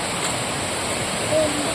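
Water from a forest waterfall thunders in a brief, steady hiss-like rush, loud and unchanging from start to end with no clear break.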